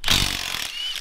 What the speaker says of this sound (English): We'll stick it in our sandblaster and